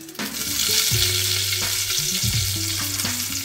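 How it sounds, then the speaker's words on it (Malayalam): Chopped onions hit hot oil with popped mustard seeds and fry in a steady, loud sizzle, with stirring clatter and a low crackle running throughout, with no voices. "നമുക്കിതിലേക്ക് അരിഞ്ഞു വെച്ച സവാള ചേർക്കാം."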